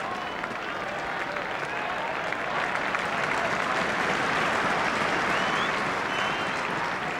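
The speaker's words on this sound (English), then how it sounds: "Crowd rise to young Bryn Gunn" A football crowd at a European Cup quarter-final between Nottingham Forest and Dynamo Berlin applauds a young player, sustained, dense clapping and crowd noise for several seconds with a commentator talking over it.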